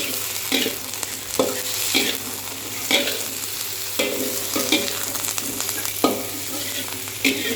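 Broccoli is stirred in a hot pan, with repeated scraping strokes over a steady sizzle, close and moderately loud, and no voices.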